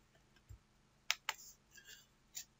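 A few sharp computer mouse clicks, isolated and quiet, including a quick pair in close succession followed by a single later click, against a near-silent background.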